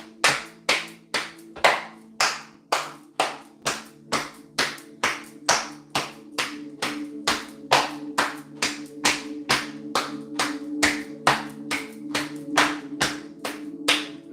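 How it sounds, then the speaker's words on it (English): Steady, rhythmic hand claps, about two per second, repeat close and alone through an energy healing session, with a low sustained hum underneath. "So your clap is coming in."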